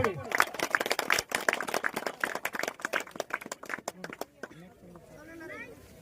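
Dense, loud audience applause at a Hojai ceremony honouring Jogijan police station officers with a phulam gamosa; rapid clapping fills the first four seconds, then thins out as a voice begins speaking.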